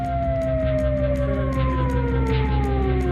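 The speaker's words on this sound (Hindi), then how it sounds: "इजराइल में सायरन का अलर्ट बजने लगा।" A loud, continuous wailing air raid siren in Israel with slowly falling tones, droning steadily throughout with a pulsing rhythm.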